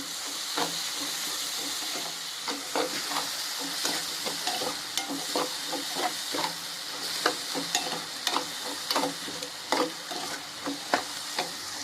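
Onions and mustard seeds sauté in a pan, giving a constant hiss of frying broken by regular scraping strokes as the mixture is stirred and turned.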